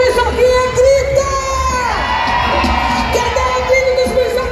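Large crowd of children at a live show shouting and cheering loudly together in a sustained roar, with a voice over a PA cutting through the noise.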